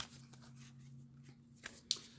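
Tarot cards being shuffled by hand on a table, quiet soft riffling and sliding with a faint steady hum underneath and a couple of sharper card snaps near the end.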